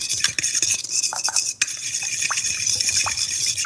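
Seasoned oil being stirred into mushrooms in a bowl, with spoon scrapes and clinks against the bowl in an uneven rhythm, close and fairly loud, no talking.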